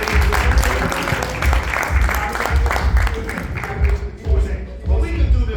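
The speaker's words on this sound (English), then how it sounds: "Clap it up." A hip-hop audience claps along in a rhythmic beat, with music and voices mixed in, the claps loud and close with a brief dip near the end before resuming.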